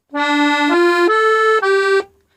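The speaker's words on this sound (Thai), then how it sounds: "เป็นเสียงมูเซ็ตเนี่ยนะฮะ" A bright, reedy accordion chord in a wavering musette tone plays a few sustained notes stepping upward, then stops cleanly.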